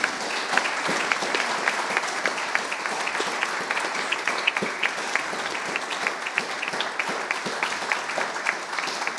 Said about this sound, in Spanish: vamos a aplaudirle al Señor por la misericordia que nos ha dado de tener a Mauri entre nosotros